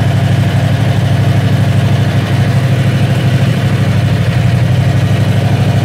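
A Predator 670cc engine idles steadily on a diaphragm fuel pump, with the gas tank mounted below it, giving a loud, even, continuous low rumble with no talk over it.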